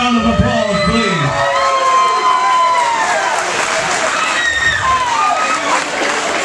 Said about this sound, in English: Would you give these fighters a big round of applause, please?